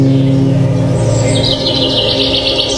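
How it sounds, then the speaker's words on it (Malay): Small birds chirp and twitter in rapid high trills over a steady low hum of background noise, the song growing busier partway through. "bunyi burung-burung berkicauan."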